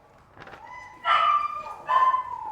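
Schnauzers kennelled together at an airport animal facility give a few short, high yips and whining barks, close and fairly loud, in two or three bursts over a quiet room.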